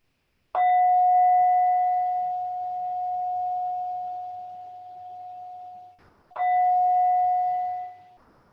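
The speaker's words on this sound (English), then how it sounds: "So with the sound of the bell, it tells us that the practice has come to a close." A mindfulness bell rings to close a meditation session: a clear resonant strike that sustains and slowly fades for several seconds, then a second strike rings out, loud and close with no talking.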